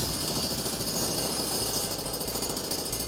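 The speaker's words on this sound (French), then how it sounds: "C'est un marteau-piqueur." A pneumatic jackhammer pounds steadily at a campsite, breaking up asphalt with a fast, continuous rattling hammering that stays loud and close throughout.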